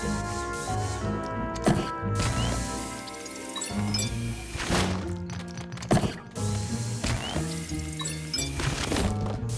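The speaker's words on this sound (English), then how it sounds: "how do I destroy a broom?" A broom gets smashed in Luigi's Mansion 3, with several sharp whacks and clattering crashes spaced through the clip over tonal game music, with no talk.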